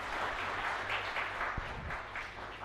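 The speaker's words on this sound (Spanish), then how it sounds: "fuerte aplauso también para ellos" Congregation clapping inside a chapel during a novena Mass, a continuous, even wash of applause from a crowd in a reverberant room.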